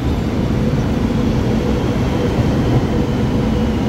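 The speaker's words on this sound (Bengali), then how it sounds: "এত জোরে বুলেট ট্রেন" A high-speed bullet train roars past near Shenzhen, a loud, continuous low rumble that holds steady throughout with no voices.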